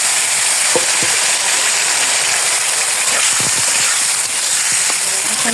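Vegetables fry and sauté in a hot pan, giving a steady broadband sizzle with scattered clicks and scrapes of stirring throughout, fairly loud and close, with no voices.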